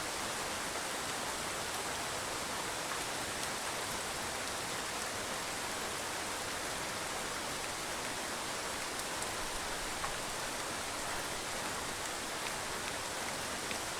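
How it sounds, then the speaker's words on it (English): Steady monsoon rain in Bangladesh falling onto a pond lined with betel nut trees, an even, broad hiss that holds without a break, heard from a moderate distance with no voices. "It has been raining"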